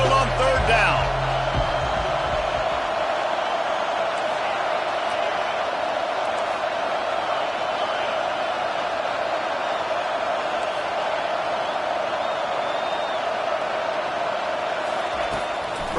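Home stadium crowd in an NCAA 25 college football video game, Ohio State vs Texas A&M, roars in a sustained, loud wall of cheering on third down, with a brief thud at the start and no letup.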